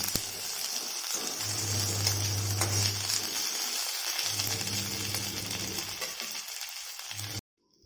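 Ginger garlic paste stirred into okra frying in a pan gives a steady close sizzle with soft scraping and stirring, running almost without pause before cutting off at the end.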